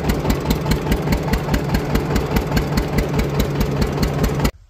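A farm tractor engine runs steadily at close range during a potato and mustard sowing season, throbbing loudly with an even rhythmic pulse and no talk, then cutting off abruptly at the very end.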